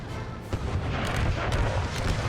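Cannon and artillery fire rumbles through an American Civil War battle game, a dense run of deep booms and thuds layered over continuous low battlefield din, with no one talking.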